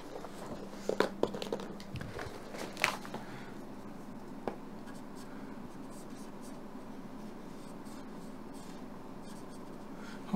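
A pen scratches out a diagram in quick strokes and short taps for the first few seconds, then only a low, steady room hum remains.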